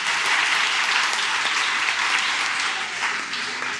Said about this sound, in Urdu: اگر نہیں ہو رہے تو تالیاں بجا دیں اسی میں.